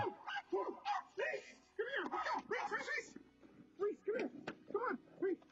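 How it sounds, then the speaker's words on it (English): A dog gives a string of short yips, barks and whimpering whines at close range, repeating irregularly over several seconds, with occasional voices mixed in. "Oh my god, that dog."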